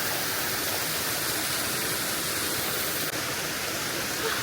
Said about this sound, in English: Guys, this is the first water stream we found.